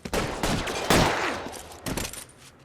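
Gunshots in the video game L.A. Noire, a quick burst of several loud close shots in irregular succession, tailing off into quieter noise.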